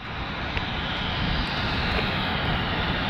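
A steady, loud roar of a Breeze Airways Airbus engine, heard from an airport spotting position, fills the whole few seconds with a broad, even rumble and no talking.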